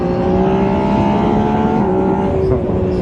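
An MV Agusta Brutale 800 R three-cylinder motorcycle accelerates with a steady, loud engine drone that holds strong and even throughout, heard close from the rider's position with no talking.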